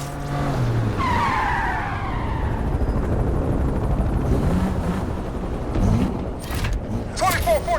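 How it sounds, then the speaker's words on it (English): A police helicopter joins a car chase in the racing game Need for Speed Unbound, its rotor drone steady beneath squealing, skidding tires and revving engines, with radio dispatch voices talking over the action. "Helicopter is doing the chase, dispatch."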